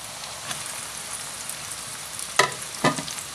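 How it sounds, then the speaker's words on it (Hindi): Chicken keema frying with golden onions in a pan gives a steady close hiss, with two louder bursts of crackle and scraping near the end, no voices. "कीमा ऐड कर लेते हैं"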